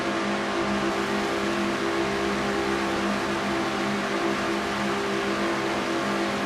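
An on-board race car engine in a stock-car racing video game drones loud and steady at high speed on an oval track, a constant buzzing tone with no talk.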